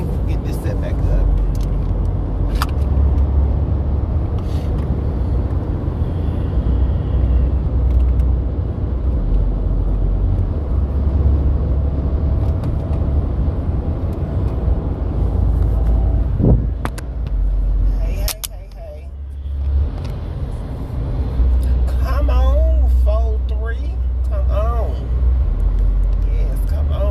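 Steady road rumble and engine hum from inside a car on a road trip, continuous with a brief dip partway through. Voices talk over it.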